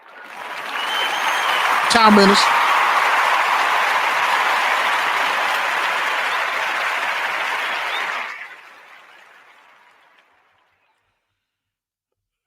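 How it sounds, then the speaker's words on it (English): Studio audience applause for quarterback Josh Johnson during a football podcast, a loud steady wash of clapping that swells early, holds for several seconds with a brief voice cutting through, then stops abruptly and trails into a faint fade. "We're gonna give another round of applause for Josh Johnson."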